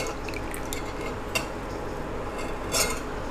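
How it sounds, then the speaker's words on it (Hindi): A spoon stirs mixed vegetables with fresh coriander in a pressure cooker, giving soft scraping and light clinks of metal against the pot, fairly quiet and close. "और मिक्स कर लेंगे और इसे बाउल में निकाल लेंगे।"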